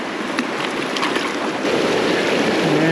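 A small brown trout is let go into the Taylor River in Colorado, a brief splash lost in the steady rush of flowing river water that fills the scene.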